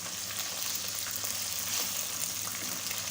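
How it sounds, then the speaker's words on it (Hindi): Chicken pieces frying with golden light-brown onions in a pot for white pulao, giving a steady, close crackling sizzle that holds evenly throughout with no talk. "चिकन फ्राई कर लेंगे।"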